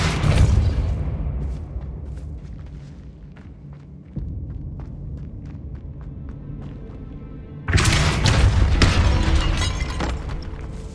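A Depulso force spell striking in a tomb in Hogwarts Legacy, a sharp shattering burst followed by clattering debris and a low rumbling tail, then a second heavy crash near the end.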